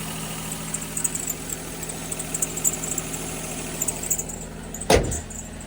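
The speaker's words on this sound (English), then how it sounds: "All right, look, belt squealing." Idling Mazda RX-7 engine with a squealing belt, a steady low rumble with a faint high whine running continuously, then a sharp brief clunk near the end, close and alone.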